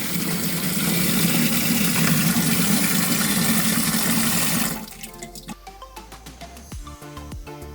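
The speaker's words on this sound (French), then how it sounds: "je suis en train de mettre de l'eau dans l'arrosoir" Loud rushing water pours into a watering can on a farm for several seconds, then stops, leaving scattered drips and small clanks.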